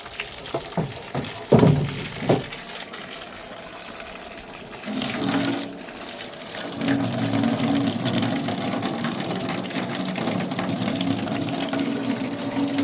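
A battery-powered barrel pump clicks and clunks as it is connected, then whirs into a steady motor hum with water rushing through it, continuous and close for several seconds.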